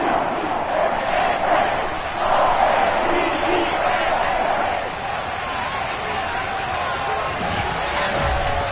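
A stadium crowd roars for the Baltimore Ravens hosting the New Orleans Saints in a simulated Week 17 football video game. The broad, steady cheering holds for the whole stretch, with announcer commentary running over it.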